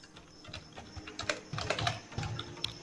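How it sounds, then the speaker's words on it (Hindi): Typing on a computer keyboard while entering text into an Excel spreadsheet, a close series of quick, irregular key clicks in bursts, with no voices. "जो भी ऑथराइज की सिग्नेचर है वो मैं टाइप कर देता हूँ"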